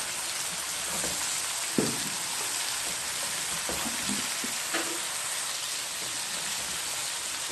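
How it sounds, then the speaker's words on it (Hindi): Mixed vegetable pickle with lemon and green chillies being stirred in a pan on the stove, a steady close sizzling hiss with a few soft scraping knocks from the spoon. "अब इसको अच्छे से मिक्स कर लेंगे।"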